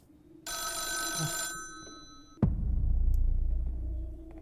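A telephone bell rings loudly and steadily for about a second, then a sudden thump gives way to a low rumbling drone that carries on to the end.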